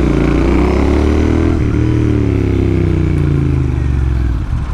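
A Royal Enfield Interceptor motorcycle fitted with a chrome-finish AEW TE 101 exhaust rumbles loudly and close at a deep, steady idle, the low throb holding with a slight dip partway through and no voices.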